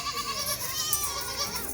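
Young Nachi goat kids bleating continuously in a cluster of overlapping high, wavering cries, close and fairly loud, with no talking over them.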